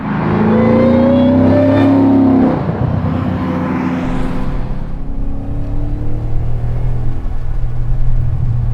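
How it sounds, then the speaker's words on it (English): A slammed, supercharged widebody Mustang 5.0 GT engine revs with a supercharger whine, then settles into a deep, steady exhaust rumble close by. "Exhaust doesn't sound that bad either."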